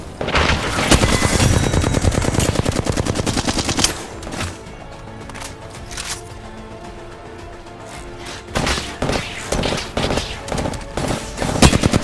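Rapid automatic gunfire bursts in the Apex Legends battle royale game, loud and close, with dense volleys at the start, a quieter stretch in the middle, then renewed firing toward the end.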